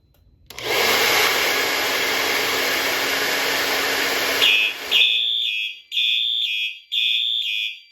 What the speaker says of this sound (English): I'm going to activate the Edwards heat detector by just using a hairdryer.